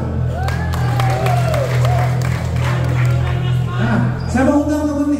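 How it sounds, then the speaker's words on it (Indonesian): Music event audience at JG Center clapping and cheering together, lively applause with whoops and shouts over a low steady hum, as a presenter's voice carries on through it. "Tepuk tangan."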